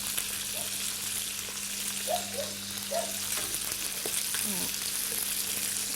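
Liver and quails frying in a pan over fairly high heat, a steady near sizzle under a low hum, with a few soft clinks and faint background sounds.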